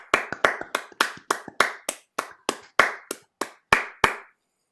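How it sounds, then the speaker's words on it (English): Scattered hand claps and finger snaps from an online audience after a poetry open mic reading, about fifteen sharp, close, evenly spaced hits over a few seconds, then silence. "I think we can have a round of applause for everyone"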